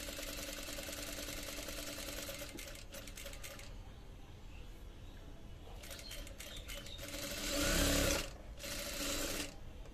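A sewing machine stitches a band collar, running steadily with a whirring mechanical buzz, pausing briefly and then picking up again, with a louder surge near the end as the fabric is turned.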